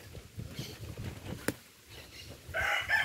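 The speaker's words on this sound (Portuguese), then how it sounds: "Sorte que as galinhas estão aí de boa" Outdoor chickens clucking and calling in short, scattered bursts after a windstorm, with louder, nearer fowl calls rising toward the end.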